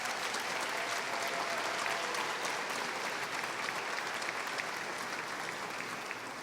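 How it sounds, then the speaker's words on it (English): A crowd at an annual community rally gives sustained applause, a steady dense wash of clapping hands that holds evenly throughout at moderate loudness. "All of you, give yourselves a round of applause."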